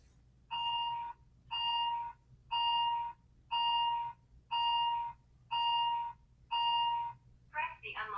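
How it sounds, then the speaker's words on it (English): A Lockzo smart door lock in setup mode sounds seven evenly spaced electronic beeps, close and clear, and then a short synthetic voice prompt follows. "the lock will start emitting a beep sound 7 times"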